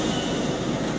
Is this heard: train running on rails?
yes